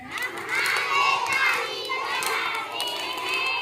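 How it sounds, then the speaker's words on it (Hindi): Children in a classroom circle game clapping their hands in front together, a lively burst of claps mixed with children's voices and shouting throughout. "हम आगे ताली बजाते हैं।"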